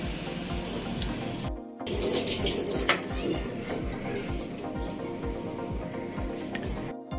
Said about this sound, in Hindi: मिक्स कर लेंगे शहद डाल के इसे